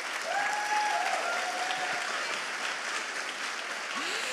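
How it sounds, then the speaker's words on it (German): Audience at an awards show breaks into sustained, even applause, a broad wash of many hands clapping, with a brief voice faintly over it. "Ein Applaus."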